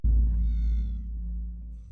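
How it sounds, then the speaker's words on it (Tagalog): At night a cat gives one clear, drawn-out meow, close and fairly loud, over a heavy low rumbling background, followed by near silence. "pusa lang pala yan."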